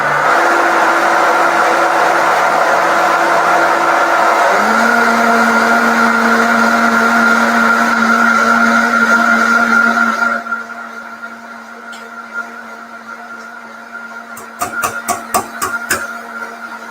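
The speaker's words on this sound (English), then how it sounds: "I'm going to put this on the blender." A kitchen blender whirs through fat, milk, tofu and flavorings for a cake, a loud steady motor drone that shifts pitch partway, then cuts off, followed by a few clattering knocks.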